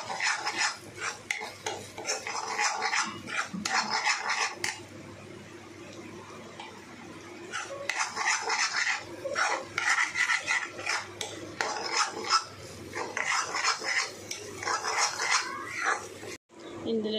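A spoon stirs a cooking mixture in a pot, giving repeated scraping and clinking strokes in bursts with pauses between, close and moderately loud.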